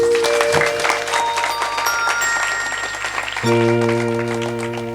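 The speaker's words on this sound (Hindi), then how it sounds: "अगर बात समझ में आई तो ताली बजाना।" Clapping from an audience at a Hindu devotional night jagran, mixed with sustained harmonium-like musical tones that shift pitch partway through, fairly loud and continuous throughout.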